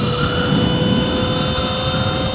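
A Talaria XXX electric dirt bike accelerating: a loud, steady electric motor whine with constant wind rush over a few seconds, with no voices.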